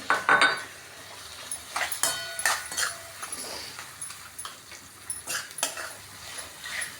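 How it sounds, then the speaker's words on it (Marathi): A spoon stirs roasted brinjal into sautéed tomatoes in a metal pan for vangyache bharit, giving scattered clinks and scrapes against the pan over quiet background. "त्यामध्ये आता हे भाजलेलं वांग आहे ते मिक्स करून घेणार आहोत।"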